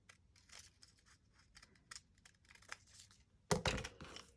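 Scissors cutting paper for a collage masterboard, a run of quick, close snips and crinkles that ends in a louder burst of cutting and rustling.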